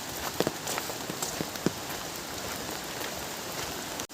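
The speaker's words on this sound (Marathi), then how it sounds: "पाऊस पण चालूच आहे आता" Steady rain falling on surfaces outdoors beside a riverbed, with scattered drops and taps over a constant hiss; a few soft footsteps, no talking.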